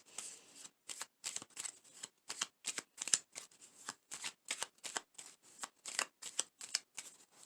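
Tarot cards from a Whispering Woods deck being shuffled by hand: a long run of quick crisp riffling bursts in an uneven rhythm, close and moderately quiet, with no talking.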